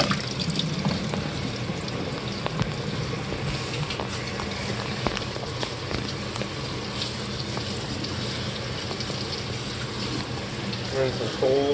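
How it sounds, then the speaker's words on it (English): Cold tap water runs over cooked pasta noodles in a metal strainer, a steady rushing splash that continues for about twelve seconds with faint talking in the background. "I'm gonna run cold water over them."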